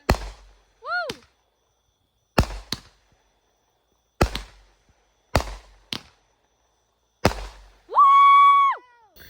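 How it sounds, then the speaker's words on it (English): Consumer fireworks at a Fourth of July backyard show, with five sharp, loud bangs spaced a couple of seconds apart, a rising whistle early on and a long screaming whistle at the end. "Guys, look at that crazy firework out there."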